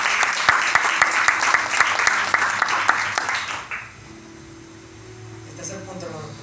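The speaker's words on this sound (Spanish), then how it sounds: "¿Cuánto puede darle un aplauso a Dios?" A church congregation claps together for God during a Spanish-language sermon, a loud rhythmic burst of many hands for about four seconds before it cuts to quiet room hum with a faint voice.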